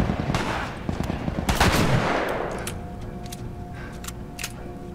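Enemy gunfire in The Last of Us, heard as a rapid burst of sharp shots followed by a loud blast that decays into a ringing tail, then scattered lighter cracks continuing at moderate volume.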